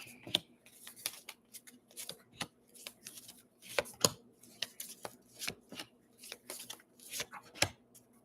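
Tarot cards being shuffled by hand for a reading, a run of crisp riffling and flicking bursts at an uneven rhythm, close and fairly quiet, with no talk over them.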